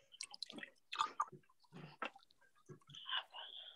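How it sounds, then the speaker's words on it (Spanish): Water dripping played for a kindergarten online class, a scattering of soft, close drips and plinks in a quiet room. "Era agua."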